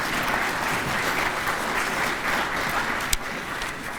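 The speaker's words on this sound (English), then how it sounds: "Give them a round of applause as well." Steady, sustained applause from a university convocation audience honoring a screening committee, a dense wash of clapping hands filling a large hall throughout.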